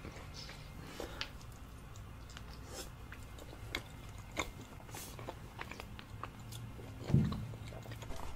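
Honeycomb dripping with honey eaten up close in a mukbang, with soft sticky chewing and scattered small bites and crunches at a steady low level, plus one louder bite near the end.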